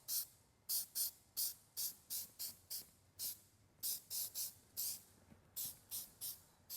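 Repeated short hissing bursts of a trim restorer spray nozzle on faded GM car trim, about twenty in quick irregular succession, close and fairly loud against a quiet background.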